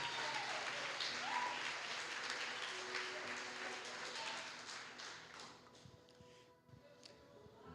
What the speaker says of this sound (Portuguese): dê um aplauso bem lindo ao nome do Senhor Jesus,